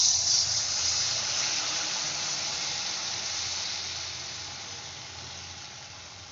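Gokul pitha batter fries in hot oil in a kadai, giving a steady, even sizzling hiss that slowly fades, with no voices over it.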